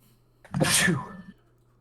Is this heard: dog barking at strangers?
no